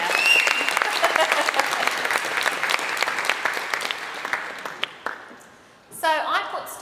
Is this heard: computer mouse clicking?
no